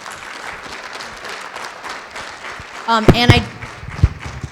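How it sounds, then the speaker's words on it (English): Audience applause for a speaker at a small gathering, light scattered clapping from a modest crowd rising briefly near the end, mixed with a voice speaking over it. "If we could give him a round of applause."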